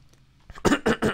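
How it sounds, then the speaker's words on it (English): A person coughs three times in quick succession, close and fairly loud, after a short quiet breath. "Oh, I still got my cough."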